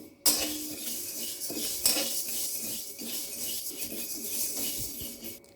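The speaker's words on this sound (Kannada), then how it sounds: "ಸ್ವಲ್ಪ ಸ್ವಲ್ಪ ಸಾಮಾನೆಲ್ಲ ಒಟ್ಟಿಗೆ ಸೇರಿಸಿ ಹುರಿತಾ ಇದ್ದೀನಿ ಚಕ್ಕೆ ಮತ್ತು ಲವಂಗ ಇದ್ದೀನಿ" Cinnamon and cloves are dry roasted in a pan while a utensil stirs and scrapes them, giving a steady close rustling and clinking that continues without speech, with a few sharper metal knocks.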